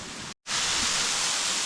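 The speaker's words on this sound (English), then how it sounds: "Now that is a lovely waterfall." A waterfall by a small bridge under overhanging crags roars as a steady, dense hiss of falling water. After a short gap the rush returns loud and constant.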